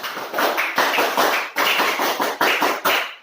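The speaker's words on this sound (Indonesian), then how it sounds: "Tepuk pramuka" Pupils in a classroom perform the scout clap, a loud, close, patterned burst of sharp hand claps falling into rhythmic groups separated by brief pauses, with no talking over it.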